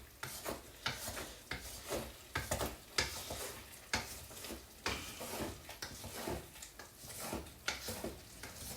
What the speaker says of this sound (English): we're just about done with our simmer here